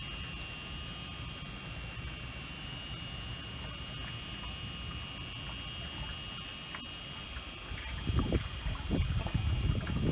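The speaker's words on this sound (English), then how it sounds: "rinse it down so that any plankton stuck onto the net are going to go into your catch right there" Water rinses down through a zooplankton net into its catch container, a steady low trickling wash that grows louder and more splashy near the end, with a faint high electrical hum behind it.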